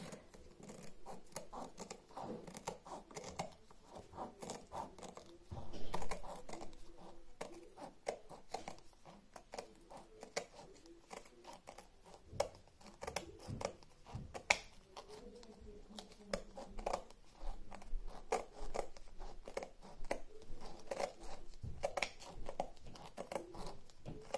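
Scissors cut off the end of a paper strip while framing a finished golden dragon piece, a long series of close, dry snipping and rustling sounds, quiet and steady, without speech.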